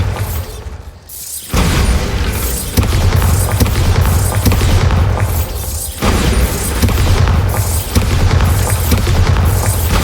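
Bombarda blasting spell in Hogwarts Legacy: loud booming explosions with crashing, rattling debris, repeated bursts in close succession over several seconds.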